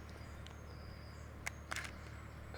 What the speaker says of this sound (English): So the first one now, quite a slow shutter speed, 1/4 of a second